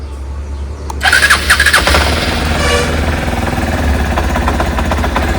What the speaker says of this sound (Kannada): ನೋಡಿ sound cut cut cut sound ಕೇಳಿಸ್ತಾ ಇದೆ ನೋಡಿ